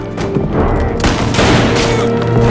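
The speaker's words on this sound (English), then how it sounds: "Who's he shooting now?" Loud, dense bursts of gunfire from a crime drama series play through a TV, overlapping into a chaotic fusillade of booming shots over a few seconds.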